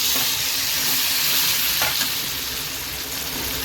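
Black masala and cut tomato frying in hot oil for a Marathi-style chicken bhaji, a loud, continuous close sizzle with steady stirring, no talking.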